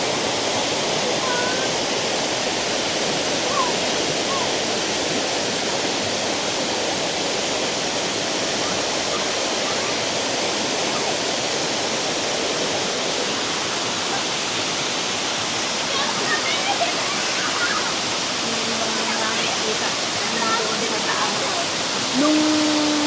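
Tamaraw Falls roars continuously as a steady, loud rush of falling water, with faint voices and brief chatter from a family near the end.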